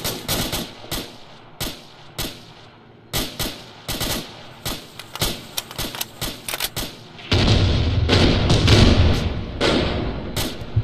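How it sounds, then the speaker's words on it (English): Anti-aircraft gun in a video game firing repeated heavy bursts, sharp thumping shots in irregular rhythm, then a dense sustained roar of fire toward the end, loud and close. "That's that sounds like an AA gun."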